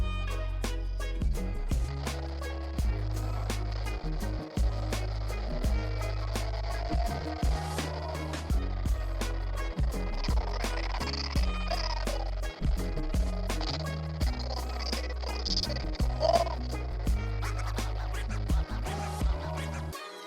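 Choppy, stuttering video game music and effects from a Miyoo A30 handheld, steady and fairly loud with constant small dropouts and glitchy breaks throughout, no talking.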